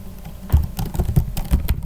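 Rapid keystrokes on a computer keyboard while writing in a text editor, a close, busy patter of uneven clicks with no voice.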